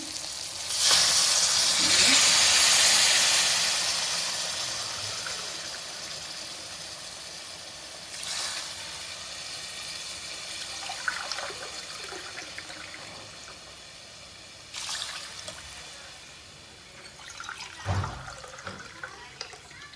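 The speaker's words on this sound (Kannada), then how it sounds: "ಇದಕ್ಕೆ ನೀರು ಹಾಕ್ಕೊಳ್ಳೋಣ" Water splashes into a hot pan with rice for vangi bath, a loud hissing sizzle easing into a steady bubbling simmer, with a few more sharp hisses later.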